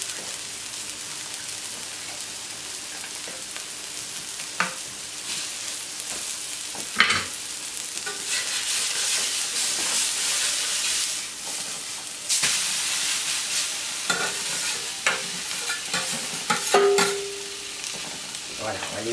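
Barbecue sauce with honey, sugar, ginger and Jack Daniel's simmering on a plancha, a continuous close sizzle and hiss with occasional scraping and clinking of utensils, and no talking.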